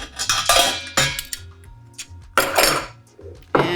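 The lid of a Corny Keg is opened with a series of sharp metallic clanks and clinks, several distinct knocks spaced over a few seconds, close and fairly loud.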